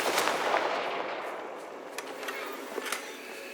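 Confringo fire spell blasts in Hogwarts Legacy, heard as a burst of crackling explosive noise followed by several sharp, separate impacts, moderately loud, with no talking.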